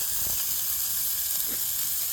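A steak sizzles in a pan at a solo wild camp beside Loch Awe, a steady broadband hiss running the whole time with a couple of brief louder spits, close and alone with no talk.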